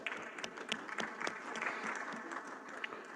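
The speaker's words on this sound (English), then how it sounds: "Let's welcome them with a round of applause." Visitors in the gallery of the House of Representatives chamber receive a round of applause, light scattered clapping from a modest group, heard somewhat distant and fairly faint.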